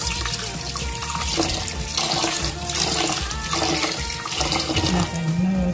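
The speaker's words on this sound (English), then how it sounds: "I wash rice 3 times or 2 times." Tap water runs steadily into a sink while rice is washed in a home kitchen in Dominica, a continuous splashing rush with faint clinks of handling and no talk.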